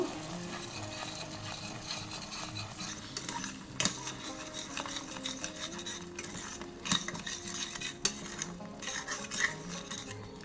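Okra masala with dried fenugreek leaves being stir-fried in a pan, with steady scraping and clinking of a spoon against metal and a soft sizzle underneath, a few sharper knocks standing out.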